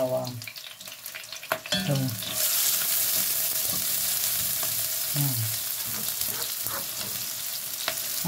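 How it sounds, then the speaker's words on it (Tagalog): Chopped onion and garlic sauté together in a hot pan as the base for sarsiyadong isda. A voice speaks briefly, then a loud, steady sizzle takes over and continues for the rest of the clip. "Pagsasabayin na natin yung ating sibuyas at bawang."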